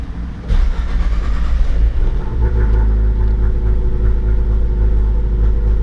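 Car engine with a Motec M142 engine management setup, an MR16DDT with CNC Innovations manifold and direct and port injectors, starting up and then idling with a steady, loud, close rumble and no talk.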